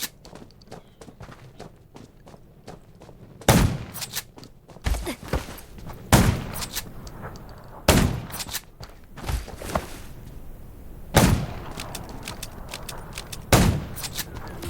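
Scattered gunshots from the zombie survival video game Undawn, about half a dozen loud sharp cracks at irregular intervals over a quieter background of game ambience and footsteps, with no talking.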